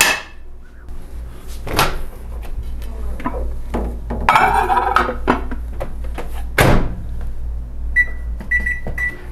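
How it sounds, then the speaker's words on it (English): Food goes into a microwave oven in a home kitchen: a few clunks and knocks of the door and dish, rattling handling, then a short run of electronic keypad beeps near the end. "I'm gonna stick it in the microwave."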